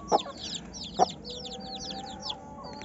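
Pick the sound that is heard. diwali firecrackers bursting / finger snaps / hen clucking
hen clucking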